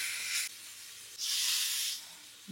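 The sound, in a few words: spraying olive oil from a spray can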